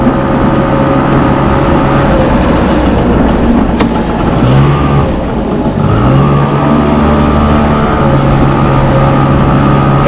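A smoky, odd little Honda motorcycle engine running loudly and steadily, idling close with a continuous rumble and a couple of brief pitch shifts as the revs change.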